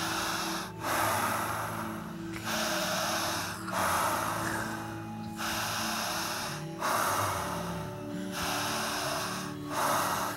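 A person under hypnosis breathing deeply through the mouth, slow loud rhythmic inhale-exhale cycles about every two seconds, close to the microphone, with a faint steady hum beneath.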